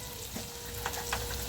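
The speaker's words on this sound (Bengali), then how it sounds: "এখানে এখন আলু ভাজা হচ্ছে" Potatoes frying in a pan for a home-cooked meat meal, a steady soft sizzle of hot oil with a few brief clinks or stirs, close and fairly quiet.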